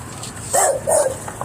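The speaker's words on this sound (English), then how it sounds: "you can flip off his dog and have him bark at you too" Dog beside a motorhome at an outdoor live event barks twice in close succession, sharp and near, with faint background murmur.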